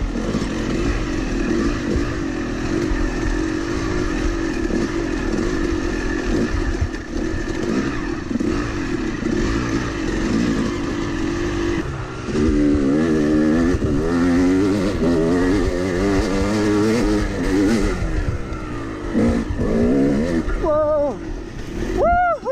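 A trials motorcycle runs with its exhaust pipe fallen off, a loud raw engine idling and then revving in rising and falling bursts, with brief voices near the end.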